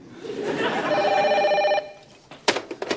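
A telephone ringing indoors: one sustained electronic ring of about a second, loud and steady, then a brief pause before a person starts talking.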